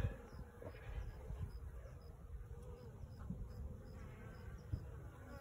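A steady, low, close buzzing drone of many bees feeding inside a barrel beehive, with no talk over it.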